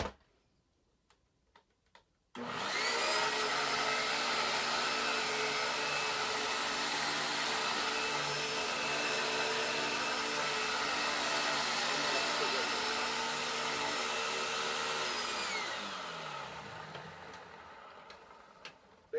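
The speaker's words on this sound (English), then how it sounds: "Now, this is the hoover on the lowest carpet setting." A Hoover vacuum cleaner runs on its lowest carpet setting: after a few soft ticks it switches on abruptly to a loud, steady whining drone with a strong hum, then winds down near the end as the motor slows, with no talk.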